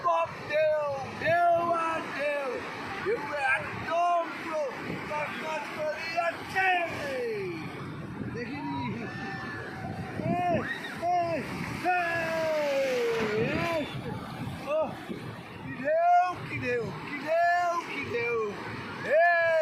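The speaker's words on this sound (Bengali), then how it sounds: "দেখেছেন ঢেউ কি ঠেলে নিয়ে যাচ্ছে" Surf at Bakkhali beach surges and splashes as waves shove bathers along, a continuous churning wash heard under constant overlapping shouts and cries from a crowd in the water.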